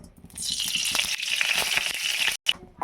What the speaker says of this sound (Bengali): এবার আমি এটার মধ্যে আলুগুলো দিয়ে ভেজে নেব তার আগে আমি আর একটু তেল দিয়ে দেবো